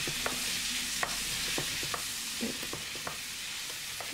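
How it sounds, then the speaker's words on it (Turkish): Small date tomatoes sauté over high heat in a pan, a soft steady sizzle broken by occasional clinks and scrapes of stirring, fairly quiet and close. "Onları da daha sonrasında yüksek ateşte soteledim."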